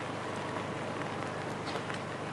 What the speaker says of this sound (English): The rain still coming down quite steadily here.